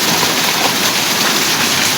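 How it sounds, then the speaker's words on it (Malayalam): Heavy rain pours down in a dense, unbroken hiss, loud and close, with no voices over the steady downpour. "നല്ല മഴ, കുട്ടികൾ സ്കൂളിൽ പോകണ നേരത്ത് മഴ"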